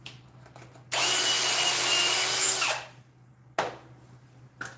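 Old Milwaukee power drill whirring loudly for about two seconds, spinning down, then a brief second burst, recorded in a woodworking shop.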